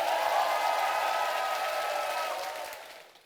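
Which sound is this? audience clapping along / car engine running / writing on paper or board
audience clapping along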